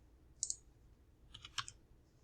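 Typing on a computer keyboard brings two short clusters of light, crisp key clicks, close and quiet against a near-silent background.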